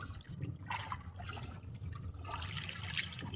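A strong river current after a typhoon rushes and gurgles continuously nearby, a full, churning wash of water with no voices heard.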